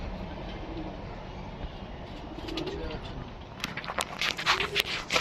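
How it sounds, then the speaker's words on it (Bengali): Dum pigeons coo softly amid low background noise, then a burst of wing flapping and fluttering near the end as the birds are released and take off. "দুম পায়রা ছেড়ে দেখাচ্ছি দেখুন।"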